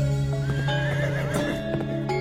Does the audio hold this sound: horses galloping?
yes